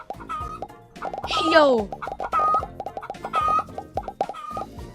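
Cartoonish chickens cluck in short, bouncy bursts in a chicken farm video game, repeating near and loud while a player talks over them.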